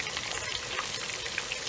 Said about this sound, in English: so my fish is frying